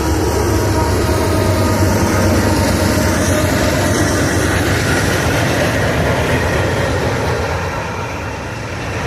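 A Union Pacific freight train rolls past a crossing in Steger, Illinois, a loud, steady rumble of wheels and rail cars filling the whole stretch before easing slightly at the end.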